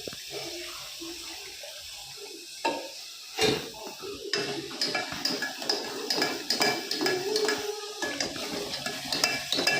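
Dal with cabbage bhaji cooks in a pan with a little added oil, heard as close clattering of a spoon against the pot and stirring, with soft sizzle and wet scraping between knocks.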